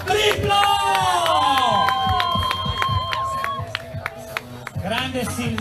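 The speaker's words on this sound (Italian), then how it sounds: "l'applauso va non doppio, triplo!" A crowd at the Palmanova half marathon claps and cheers for a runner, with a noisy burst of applause and whoops mixed with loud voices and shouting close by.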